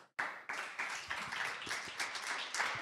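Audience applause for a speaker at a talk on political polarization and outsider leaders, a steady dense clapping that starts abruptly and continues evenly throughout, fairly close and alone without voices.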